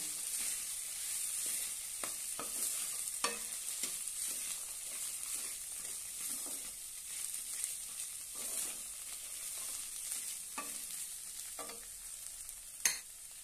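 Sweet corn poha with washed flattened rice is sautéed in a pan, giving a soft continuous sizzle broken by intermittent spoon scrapes and stirs, fairly quiet and close with no talking.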